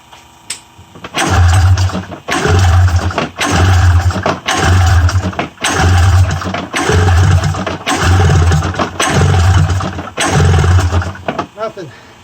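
A 1994 Polaris Indy 500 EFI snowmobile engine is cranked in a rapid series of loud, close bursts, about nine rhythmic pulls of roughly a second each that sputter without settling into a steady idle.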